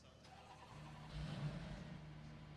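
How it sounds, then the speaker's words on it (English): A GT3 race car engine in a sim racing game at Spa starts up: a short starter whir, then the engine catches into a steady, rumbling idle with a brief rev, close and fairly quiet. "Start the engine up."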